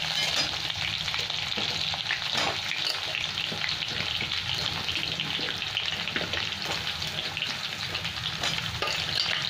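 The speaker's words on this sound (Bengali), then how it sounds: "এখানে আমার আলুটা ভাজা হয়ে গেছে লাল লাল, এবার আমি ঝিঙেগুলো তুলে দিচ্ছি সব।" Potatoes and ridge gourd fry together in a hot pan, giving a dense, steady sizzle with scraping stirring strokes up close and no talk.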